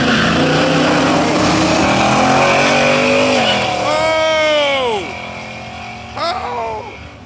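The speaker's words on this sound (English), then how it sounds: "Big wheel race at Shutup&Race finals." Race cars roaring through a big wheel race at Shutup&Race finals, loud sustained engine drone with sweeping pitch shifts as cars pass and rev, a second sharp rise near the end, with a voice under the noise.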